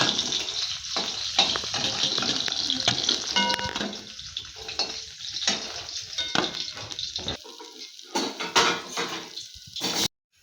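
Continuous crackling sizzle of black cumin seeds and spices frying in hot oil after fish, with occasional clinks of a utensil against the pan, close and steady before stopping abruptly.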